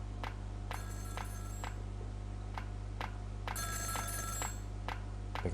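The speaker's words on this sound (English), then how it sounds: "Pick up the damn phone." Repeated electronic telephone ringing in the video game Ghost Trick, several bursts of rings in a steady rhythm over a constant low background hum, with no talking.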